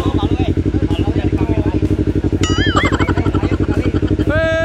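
A motorcycle engine runs close by with a fast, steady, throbbing putter, while people shout and chatter over it and brief whistling or squealing sounds cut in near the end.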